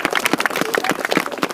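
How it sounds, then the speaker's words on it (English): Audience applause at a school grand opening: a brief burst of dense, close clapping from many hands, uneven and overlapping. "I think we should give them a round of applause"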